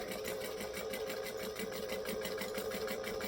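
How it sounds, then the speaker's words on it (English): A sewing machine runs at a 2.5 stitch length around the edge of a garment with an empty bobbin, giving an even, continuous whirring hum with a fast, regular needle rhythm, close and alone throughout. "So now let's stitch completely around the edge."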